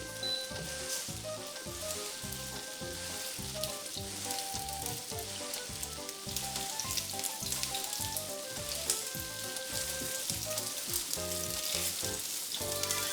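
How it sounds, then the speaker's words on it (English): Meatballs sizzle and fry in hot oil in a frying pan: a steady, dense crackle running throughout, mixed with a rhythmic music track. "This step starts with some oil in the frying pan. To this, we're just gonna add the meatballs"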